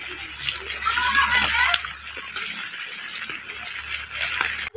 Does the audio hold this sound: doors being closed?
no